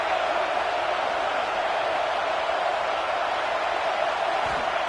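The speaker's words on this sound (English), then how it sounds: "This crowd bringing the energy and noise early." A packed stadium crowd at a Gators vs LSU college football game roars in a steady, loud, broadband wash of noise that holds evenly throughout, with no single voice standing out.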